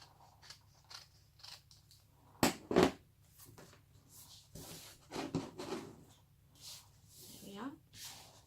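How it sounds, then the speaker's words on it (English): Scissors snip off excess paper while making a handmade envelope with pockets for a junk journal, a few sharp close cuts at intervals amid quiet handling, with a person talking throughout. "just turn it over and cut off this excess"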